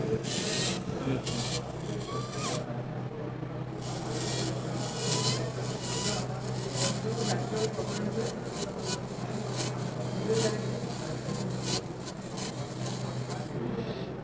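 A surgical drill grinds into bone during craniovertebral junction spine surgery, a steady high rasping whine running nearly the whole time with brief pulsing dips, over a constant low hum and faint background voices.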